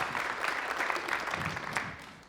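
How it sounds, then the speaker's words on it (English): Audience applause at a pitch contest fills a hall in a steady, moderately loud wash of many hands clapping that fades slightly toward the end. "let's do a proper round of applause"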